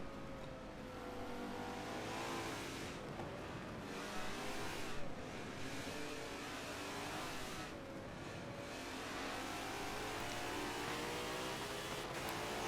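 A Mercedes race car in a racing game screams down a straight, its engine holding a loud, steady high drone with small shifts in pitch and no talk over it.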